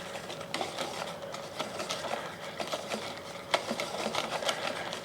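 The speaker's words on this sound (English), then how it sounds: "I'm going to slowly whisk in the lemon juice" Lemon juice is whisked into a lemon curd mixture in a bowl, giving a soft, quick, rhythmic tapping and clicking that continues steadily at low volume throughout.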